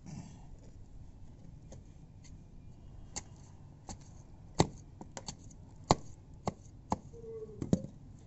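Roots of a root-bound rubber plant are cut back, with a series of sharp, isolated snips and chops at irregular intervals, close up over quiet background noise.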